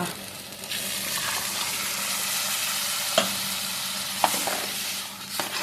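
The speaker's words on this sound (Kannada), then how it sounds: "ಚೆನ್ನಾಗಿ ಫ್ರೈ ಮಾಡಿ ನಾವು ಮಸಾಲೆ ಮಿಕ್ಸ್ ಮಾಡ್ತೀವಿ" Continuous sizzle of a thick masala mixture frying in a pan for Mangalore-style egg curry, stirred steadily, with a few sharp scraping taps of a spoon; no talking.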